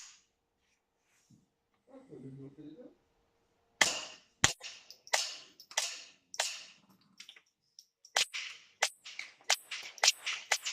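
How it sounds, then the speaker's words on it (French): A Hammerli Tac R1 rifle fires MagTech subsonic rounds, then CCI Minimag rounds, in a series of sharp, moderately loud cracks at an uneven pace, getting quicker near the end, after a brief quiet breath. "on va faire un petit test pour vous montrer 5 subsoniques MagTech et ensuite 5 CCI Minimag"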